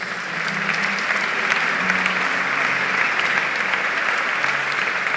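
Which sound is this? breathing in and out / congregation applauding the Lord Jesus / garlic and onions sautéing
congregation applauding the Lord Jesus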